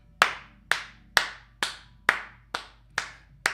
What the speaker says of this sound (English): I am applauding you.